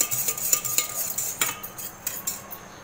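A whisk beats a mixture of yogurt and sugar in a bowl, rapid rhythmic metallic clinks and swishes in quick bursts, close and fairly loud, with no talking.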